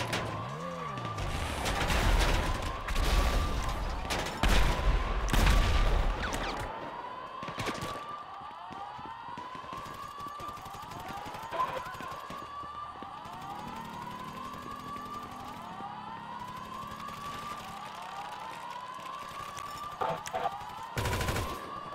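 Rapid gunfire crackles loudly through the first seven seconds of a GTA Online heist, with scattered shots later as a wailing police siren rises and falls repeatedly over ongoing engine noise.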